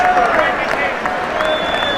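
Crowd applauding at the 1985 Rugby League Challenge Cup final, a dense continuous wash of clapping and cheering from a large stadium audience, heard under a commentator's voice.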